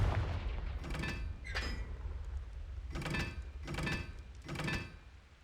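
The Confringo fire spell cast several times in a Hogwarts video game, each cast a sharp blast with a short burst, spaced about a second apart over a low rumbling background.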